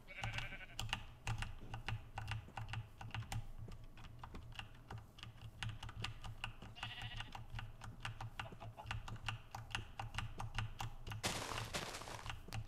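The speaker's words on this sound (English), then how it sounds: "Sheep. Sheep." Short sheep bleats from Minecraft 1.14.4 come through a few times, nearly buried under steady, rapid keyboard clicking and game sounds.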